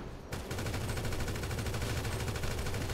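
Rapid automatic gunfire erupts in GTA 5 Online, a loud continuous burst of evenly spaced shots that starts abruptly and keeps going without pause.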